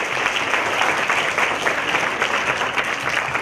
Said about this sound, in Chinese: 我们来一次热烈的掌声